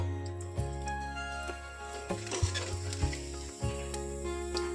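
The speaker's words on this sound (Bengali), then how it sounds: "জিরে ফোড়ন দিয়ে দিলাম একটু।" Cumin seeds sizzle in hot oil for tempering, a soft continuous crackle under a droning low hum, punctuated by several stirring knocks and scrapes against the pan.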